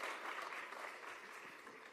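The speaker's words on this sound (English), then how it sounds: "Please give them a round of applause." An audience at a corporate directors' strategy and innovation session claps together in steady, fairly faint applause that holds evenly for a couple of seconds, with no talking.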